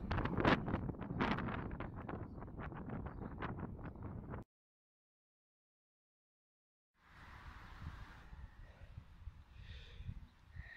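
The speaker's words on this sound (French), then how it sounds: "Il y a un petit peu de vent, hein, ça on n'aime pas." Gusty wind buffets the microphone on a bicycle ride near Bayonne, Adour and Anglet, in loud, rough bursts, drops to total silence, then returns as a softer rushing with faint background sounds.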